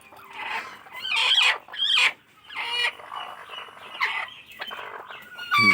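A hen clucks repeatedly at close range as she is set onto a nesting spot, giving uneven bursts of clucks with a sharper squawk at the end, with no talking.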